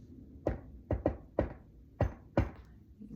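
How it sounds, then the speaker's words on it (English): Five sharp knocks on a wooden door, hard and close, in an uneven pattern: one, a quick pair, then single raps at roughly half-second gaps, each fading quickly, with nothing else heard. "you knock 3 times"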